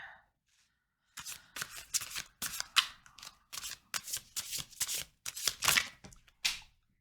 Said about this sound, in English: So I have blended 3 different decks together here.